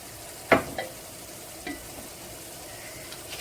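Garam masala stirred into a pan for a mutton curry, a few short scraping strokes with a brief sharp clatter at first, then a faint background sizzle.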